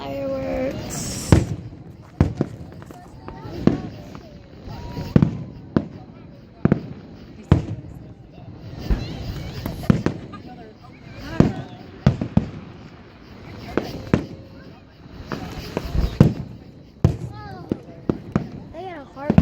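Fireworks burst in a long irregular series of sharp, loud explosions, some crackling, seen from a crowd with excited talk and shouting between the blasts.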